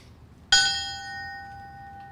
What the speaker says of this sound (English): Ringing the bell will be his sister Debbie